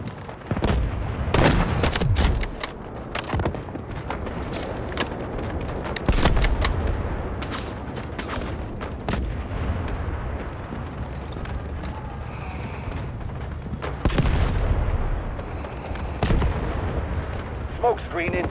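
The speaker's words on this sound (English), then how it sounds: "Artillery barrage incoming." An artillery barrage in the Delta Force video game, with heavy booming explosions landing at intervals over a steady rumble of battle noise and gunfire, and radio-style voices heard between the blasts.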